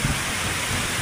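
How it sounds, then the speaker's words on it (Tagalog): Heavy rain and strong wind from a storm at a compound on Burias batter down in a dense, loud, unbroken roar. "Grabe ang ulan dito ngayon at napakalakas pa ng hangin."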